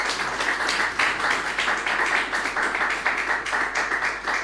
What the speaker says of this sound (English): So one applause for you.